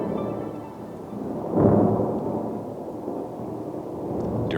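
Night rain falls over the desert, a steady wash of drops on the ground broken by a swelling roll of distant thunder, with no voices.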